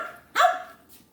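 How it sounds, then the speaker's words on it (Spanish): A single sharp dog bark, close and fairly loud, rings out once in an otherwise quiet room and fades quickly. "Ladra, mijo, haz algo."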